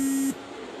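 A mobile phone gives one steady electronic beep that cuts off after about a third of a second during a religious discourse, leaving a low room hum.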